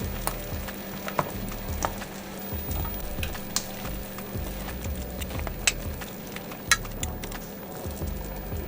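Buldak noodles simmer in a pot as rice cakes go in, a steady bubbling hiss broken by occasional sharp knocks and clinks, no talk.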